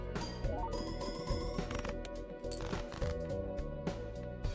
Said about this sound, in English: That's a perfect shuffle.